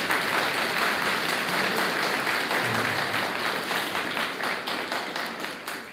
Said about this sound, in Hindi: और अच्छी तरह तालियां बजाओ